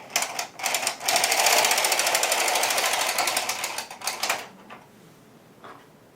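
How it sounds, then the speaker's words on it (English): An Ultimate Sweater Machine carriage being pushed across the bed knitting hat rows, a loud close rattling, clattering sweep lasting a few seconds, followed by a few quieter clacks and knocks. "I'm going to knit 6 rows at this tighter stitch size"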